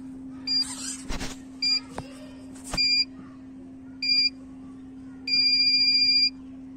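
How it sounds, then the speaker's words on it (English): An electronic heliostat control unit emits a series of short, high-pitched beeps after a reset, a few single chirps followed by a longer beep, over a steady low hum. "You can hear the beeps, I think."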